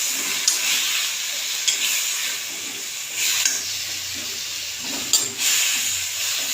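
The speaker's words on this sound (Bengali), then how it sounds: "দিয়ে দিচ্ছি লবণ, দিয়ে দিলাম হলুদ, দিয়ে দেব মিষ্টি, দিয়ে ভেজে নিলাম।" Jute leaves fry in a pan with salt, turmeric and sugar, giving a steady close sizzle and hiss broken by a few sharp stirring scrapes, with no talk.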